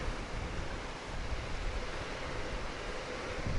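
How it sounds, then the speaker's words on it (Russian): The Shirlak waterfall in the Kurai steppe area roars as a steady, broad wash of rushing water. The sound is continuous and even, with some wind buffeting and no voices. "А это водопад Ширлак."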